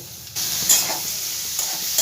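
Frying and stirring in a pan while cooking Bengali fish-oil chorchori, before chopped tomato goes in: a steady close sizzle, starting abruptly after a brief quiet, with scraping stirs and small spatula clinks, no talking.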